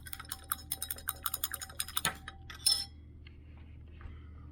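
A spoon stirring oil and water in a container makes a quick run of rhythmic clinking taps for about three seconds, then the sound drops to near quiet.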